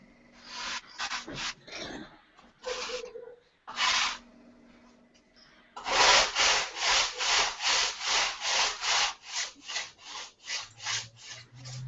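A small wooden model elevator is sanded by hand. A few scattered rubs come first, then a close, even run of rhythmic back-and-forth scratchy strokes.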